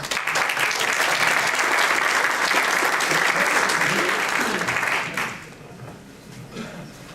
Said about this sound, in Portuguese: Então, uma salva de palmas para ela.